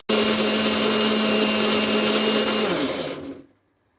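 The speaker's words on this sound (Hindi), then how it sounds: "तो इसको ब्लेंड कर लिया मैंने" An electric blender purees falsa berries with a loud, steady whirring motor that runs continuously, then slows and winds down to silence.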